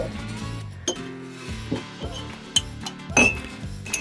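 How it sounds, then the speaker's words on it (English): Ice pieces clinking into a cocktail glass for a bourbon sour, several separate bright clinks spaced over a few seconds, close and clear with no talking. "To that, add a little bit of ice."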